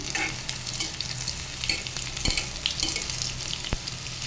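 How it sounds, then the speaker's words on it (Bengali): Bitter gourd (karela) slices frying in a pan, a steady close sizzle with the scrape and clack of a spatula stirring, occasional sharp taps against the pan. "আর এই করলা ভাজি আবার আরেকবার দিয়েছি"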